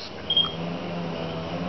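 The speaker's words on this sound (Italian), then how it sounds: "Mettiamo a fuoco e scatto." A Huawei Honor phone camera with an 8-megapixel autofocus sensor and LED flash focuses and takes a photo: one short, faint click over a quiet background hiss.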